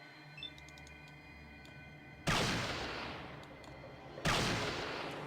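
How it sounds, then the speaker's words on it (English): Two loud sniper rifle shots ring out in Fallout 2, about two seconds apart, each a sharp blast that trails off into a long decaying echo, over a quiet hum with faint ticks. "I will try and take her down with sniper rifle fire"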